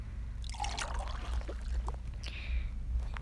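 Juice poured into a cup at home, a steady trickling liquid stream running close up for a few seconds with a faint low background hum.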